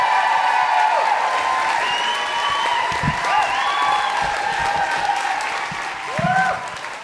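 A live comedy podcast audience claps steadily and shouts as a comedian is welcomed on stage, the applause dense and loud throughout with whoops rising over it.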